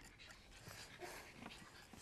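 A dog pants and whimpers in a comedy film, with quick, breathy panting and a few soft whines over a faint, noisy background, close but fairly quiet.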